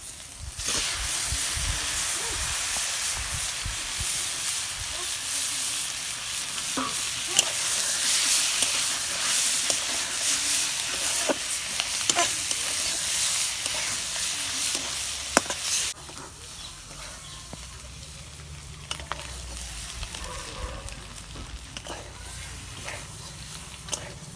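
Local hen's eggs cooking in hot oil in a pan, a steady broad sizzle and hiss with occasional stirring clicks, loud for the first sixteen seconds then dropping to a quieter simmer.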